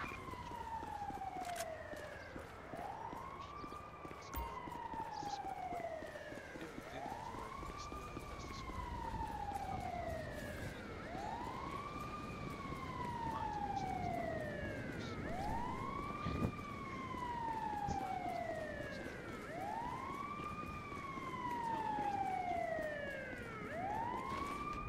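Emergency vehicle sirens in GTA V, a steady wailing cycle rising and falling repeatedly over a low traffic rumble, moderately distant and continuous.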